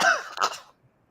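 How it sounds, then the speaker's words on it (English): A single harsh cough with throat clearing, close and loud, fading to silence within a second. "you made me cough so hard"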